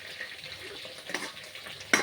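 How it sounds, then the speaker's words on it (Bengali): Pointed gourd (potol) frying in oil produces a soft, uneven sizzle with a few louder crackling bursts and stirring scrapes, fairly close, with a sharp clink near the end and no speech. "পটলটা লাল লাল করে ভেজে নিই"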